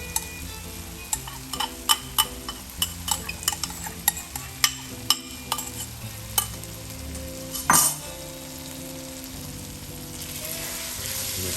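Shrimp and chorizo risotto is stirred in a pan, a spoon scraping and clicking against the metal in a quick, regular rhythm over a soft, steady sizzle, with one louder clatter near the end.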